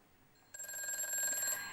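A telephone rings once for a call-in consultation on a Korean stock-trading broadcast, a bright electronic trill starting suddenly and holding for about a second.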